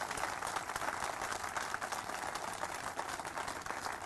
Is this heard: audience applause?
yes